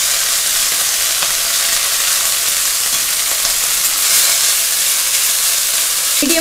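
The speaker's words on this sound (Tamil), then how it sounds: "சீவி வச்ச முட்டைக்கோஸை ஆட் பண்ணிக்கலாம்." Shredded cabbage sautéing in hot oil with mustard seeds, chana dal and green chillies, a loud continuous hiss and sizzle throughout with faint stirring scrapes and no talking.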